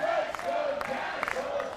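Crowd cheering and whooping at a World TeamTennis match between Springfield and Washington, a steady mid-level roar with a few sharper shouts rising out of it over about two seconds.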